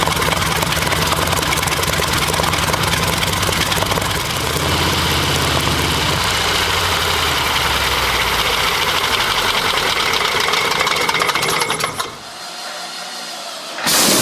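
A Rolls-Royce Merlin, a British liquid-cooled 27-litre V12 piston aero engine, runs loud and close with a deep, steady drone and shifting low tones, then cuts abruptly near the end before briefly returning.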